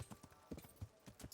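A mount named Pebbles trots in Kingdom Come Deliverance, a quick run of crisp clip-clopping hoofbeats in an irregular rhythm, brief and fairly quiet.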